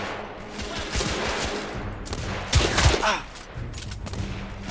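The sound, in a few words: enemy pistol gunfire in video game The Order: 1886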